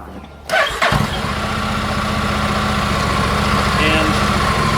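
A Honda NC750X DCT motorcycle fires up with a brief starter crank, then settles straight into a loud, steady, close idle.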